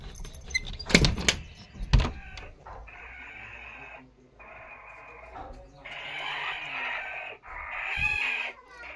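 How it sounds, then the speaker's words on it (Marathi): A hen squawks in repeated harsh, drawn-out bursts at a household door, following a couple of sharp metallic rattles and clunks of the latch being handled. "कोंबडी ओरडत आहे म्हणून मी आता दार उघडणार आहे"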